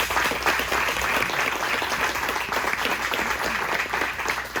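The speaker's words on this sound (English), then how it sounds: "Let's give them a round of applause." A luncheon audience at a non-profit organizational event gives a round of applause, continuous close clapping at an even level with no speech over it.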